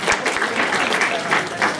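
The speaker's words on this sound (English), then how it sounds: "Can we give him a clap?" Students in a room give a short round of applause, a close, steady clatter of many hands clapping briefly for a guest.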